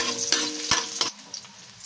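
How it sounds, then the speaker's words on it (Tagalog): Ginger and garlic sauté in hot oil in a pan for a sinigang na bangus, a soft sizzle broken by a few scraping stirs of a utensil, brief and fairly quiet. "Sunod natin ang bawang. Saglit lang natin din yung gigisa."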